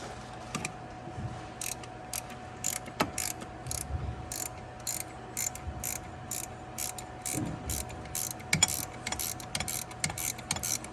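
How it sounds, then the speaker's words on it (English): Ratchet wrench clicking in quick rhythmic bursts while installing parts near the heat shield of a Nissan 240SX engine bay, close and fairly steady with short pauses, no talk. "Help if I use the right size wrench."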